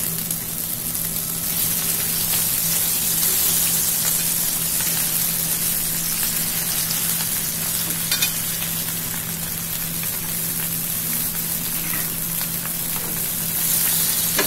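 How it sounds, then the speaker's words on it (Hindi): Lemon peel frying in hot oil with kalonji (nigella seeds) for pickle, a steady, loud, close sizzle that holds without pause throughout. "अब इसमें नींबू का छिलका डाल देंगे।"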